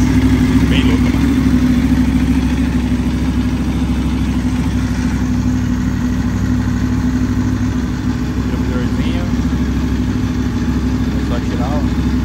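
A motorcycle engine idling steadily throughout, a low continuous rumble close by, with faint voices in the background.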